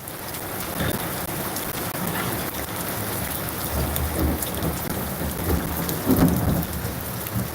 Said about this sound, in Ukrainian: Зараз будемо прориватися під дощ.